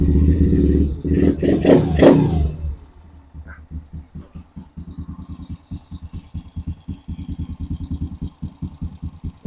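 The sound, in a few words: Honda TRX90X ATV engine running at idle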